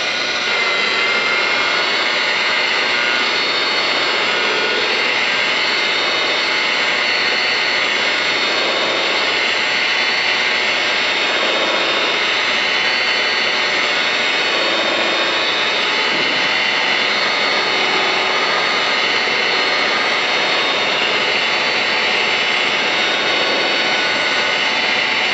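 Electric buffer polishing machine running steadily on a car, held in place by one hand, producing a continuous whirring hum that stays even and fairly loud throughout with no talking.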